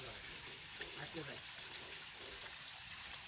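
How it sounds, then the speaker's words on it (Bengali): Water from a mountain waterfall falls in a steady, broad rush that fills the whole clip. Some voice-like sound is mixed in underneath it. "উপরে ঝর্ণার পানি পড়তেছে।"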